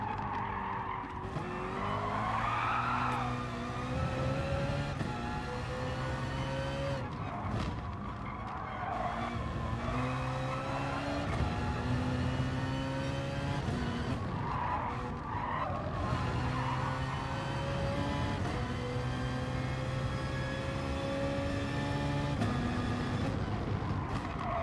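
A BMW Z4 in the racing game GT Sport understeers through corners, tires squealing and skidding in repeated long stretches over a rising and falling engine note, loud and close with no voices.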